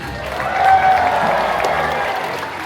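A burst of applause and crowd noise from a large theme-park show audience at Magic Kingdom, swelling briefly then holding steady, with a faint whistle near the start.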